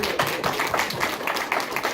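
A short burst of applause from a small crowd, dense overlapping claps at an even level with no voices over it.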